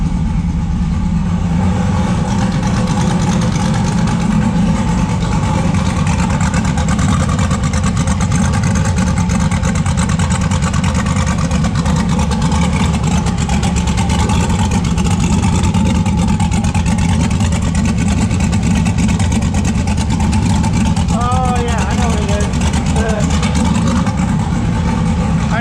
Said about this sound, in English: There it goes, it's idling now.